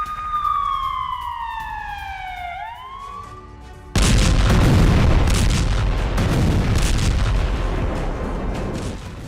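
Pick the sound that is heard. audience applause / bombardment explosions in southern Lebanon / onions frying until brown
bombardment explosions in southern Lebanon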